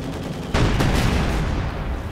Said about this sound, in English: Mortar here, wiped out by the Soviet mortar.